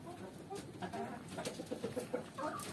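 Kanada batik chickens clucking and murmuring inside a farm coop for ornamental poultry, a steady mix of several hens' soft calls and short cackles over constant background bustle.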